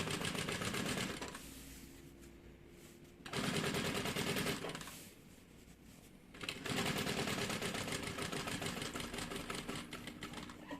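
A sewing machine stitches a bag lining, running in three bursts of rapid mechanical whirring separated by short quiet pauses, close and clear with no talking.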